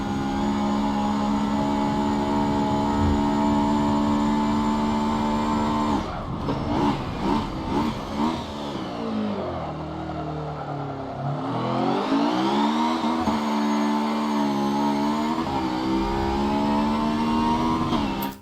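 Honda S2000 engine revving hard, holding a steady high-pitched whine near the power band, then dipping and sweeping back up through several rising and falling rev changes, loud and close.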